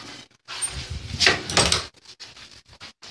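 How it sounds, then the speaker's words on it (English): A door being closed, a short burst of sliding and rubbing followed by a few soft knocks and clicks as it shuts, close by. "Let me close the door."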